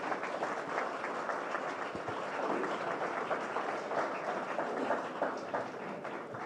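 Loud applause from a studio audience on the NDTV India stage welcoming Home Minister Amit Shah, a dense steady wash of clapping that fills the whole stretch without talk.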